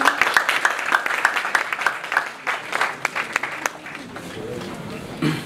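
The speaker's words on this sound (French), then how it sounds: "Je vous prie de bien vouloir l'applaudir," Applause from an employment forum audience welcoming a local job-mission speaker in Saint-Josse, a burst of distinct clapping that thins out and fades, with some voices murmuring beneath it toward the end.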